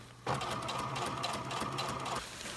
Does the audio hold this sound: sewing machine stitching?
yes